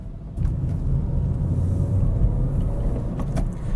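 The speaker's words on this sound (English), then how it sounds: "Doesn't have that addictive engine sound that the older one does" A 2008 Ford Ka idles at just over 1,000 RPM with a steady low rumble, heard close and continuous with no talk over it.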